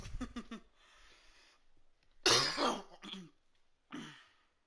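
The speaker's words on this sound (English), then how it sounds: "with this fucking cough." Coughing and throat clearing from one person, close up in a quiet room: a cluster of rough bursts at the start, a louder harsh cough midway, and a final shorter one, with faint breathing between.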